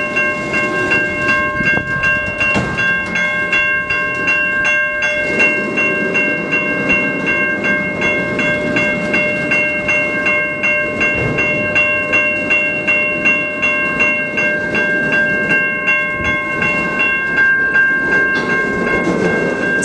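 A CN freight train hauling auto racks loaded with Ram pickups rolls through the Mill Street crossing in Ecorse, Michigan, with steady wheel and car rumble, a clicking rhythm of the rails and a sustained tonal ringing throughout, loud and close.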